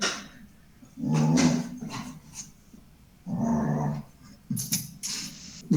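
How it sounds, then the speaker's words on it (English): A dog growls and whimpers in low, grumbling bursts that come in three separate spells with quiet gaps between, fairly close and moderately loud, with no talking over it. "My dog has also joined, so you can hear him murmuring something like that."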